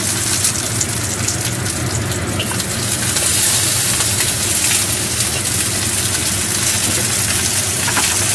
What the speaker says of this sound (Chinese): 落翻少少嘅油，爆一爆啲蒜頭、